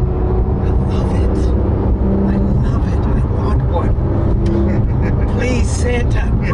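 A Porsche 911 GT3 RS engine roars loudly and steadily on back roads, its pitch shifting as it revs and accelerates, with wind and road noise throughout.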